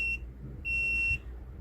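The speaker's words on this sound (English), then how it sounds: "And it beeps when it's done." A resin mixer signals it has finished with two clear electronic beeps, one short and one longer, loud and steady against a low background hum.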